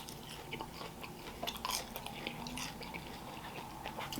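Crispy fried KFC fries being crunched and chewed close up, with irregular bites and soft mouth sounds and no talking.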